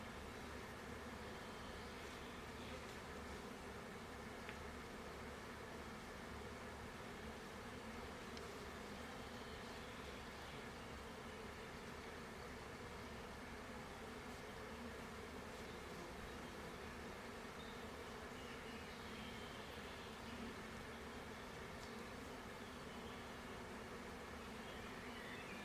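Honeybees buzzing steadily around hive frames during a honey harvest at an Italian apiary, a continuous low hum that holds at the same level throughout.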